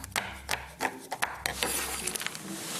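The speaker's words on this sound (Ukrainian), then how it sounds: "Тим часом я візьму плитку шоколада. Його можна натерти, а можна ось так от сюденько нарізати." A knife chops through a bar of chocolate on a board in a home kitchen, making a series of sharp, close, irregular cuts and taps.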